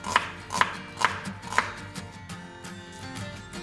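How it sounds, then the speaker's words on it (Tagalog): Knife chopping onion and crushing three garlic cloves in a home kitchen, four sharp separate knocks early on, then lighter, busier cutting sounds close by with no talking. "nag-slice lang tayo ng isang onion and nagpokpok ng 3 pirasong bawang"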